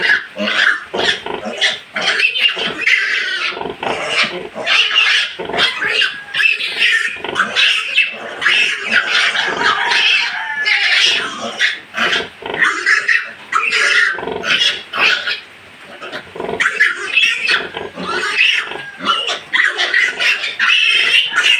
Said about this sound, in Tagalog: Ingay kung dumidi yan sila.